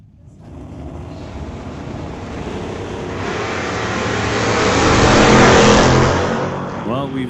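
Drag racing launch of a blue Camaro and a blue Nova at a JBS Equipment ET Series race, with a loud, sustained engine roar building to a peak mid-run, then fading as the cars pull away.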